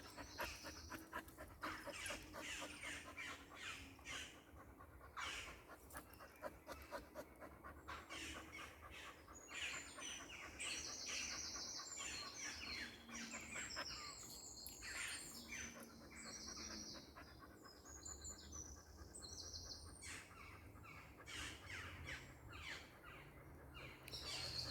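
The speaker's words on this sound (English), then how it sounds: "So you've got all this lovely birdsong going on." Birdsong outdoors: many small birds chirp and trill continuously in the background while a dog pants steadily and close by throughout, fairly quiet overall with no talk.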